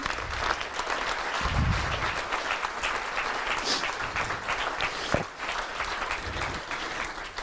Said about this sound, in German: Und nochmal ein Applaus für die vier.